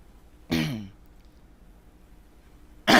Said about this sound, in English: my throat's a little bit dry right now, so I might be coughing or clearing my throat a lot in this video.